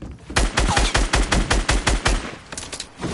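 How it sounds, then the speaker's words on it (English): Rapid automatic gunfire in the video game Fortnite bursts in a fast, evenly spaced string of loud shots, trailing off into a few scattered rounds at the end. "Shooting them from the side."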